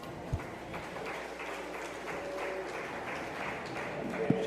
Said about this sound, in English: Let's give this young lady a big round of applause.